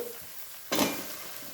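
Ginger garlic paste hits a hot pan of oil for mutton biryani with a sudden loud sizzle about halfway through, following near silence. The frying then settles into a steady crackle.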